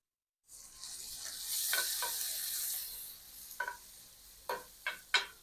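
Onions frying in a pan for sweet potato hash, a soft hissing sizzle that starts suddenly and is joined by a few sharp, close utensil clicks toward the end.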